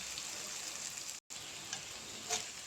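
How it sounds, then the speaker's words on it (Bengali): Onions frying in oil in a pan, a steady broad sizzle that runs throughout with a brief dropout near the middle and faint pops. "এই যে এইভাবে করে পেঁয়াজগুলো ভাজতে হবে।"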